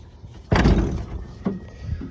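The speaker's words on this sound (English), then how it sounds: "Driver's side door opened when we were there. Let's see, it's not opening now for some reason." A stuck driver's side door on a Toyota FJ55 Land Cruiser with a seized handle and frozen inner linkage: one loud metallic clunk as the door is yanked, followed by two fainter thuds, close up and without speech.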